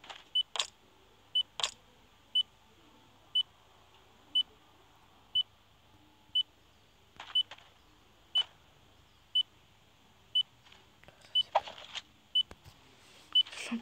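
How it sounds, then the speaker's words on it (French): Repeated short electronic beeps in a Fortnite-style building game, evenly spaced about once a second and fairly loud, with occasional clicks and game noises between them. "C'est quoi ce bip?"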